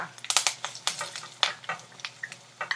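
Curry leaves and chana dal sizzle and crackle in hot oil, sharp spitting pops in quick irregular bursts close by, with no voices.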